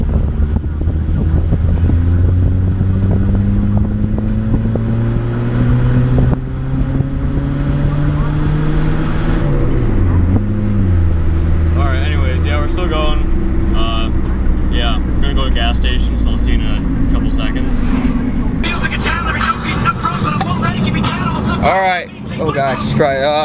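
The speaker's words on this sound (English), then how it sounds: "Still driving." A cheap used car bought off Craigslist drives along the road, with a loud steady engine and road rumble close inside the cabin, rising and falling as it changes speed, and faint clatter near the end.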